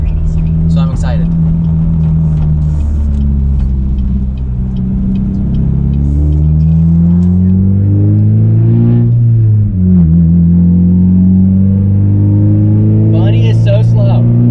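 A loud, rough Pontiac G5 engine drones and revs while driving, rising and falling in pitch with gear changes, and a person talks over it throughout.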